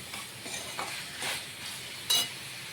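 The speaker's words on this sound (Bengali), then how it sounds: "মশলাটা আমরা 1 থেকে 2 মিনিটের মতন কষিয়ে নেব, যাতে কাঁচা গন্ধটা না থাকে।" Spice paste made with Kashmiri chilli being stirred and fried for Kashmiri mutton rogan josh, a soft steady sizzle under scraping stirs and an occasional clink of a utensil on the pan.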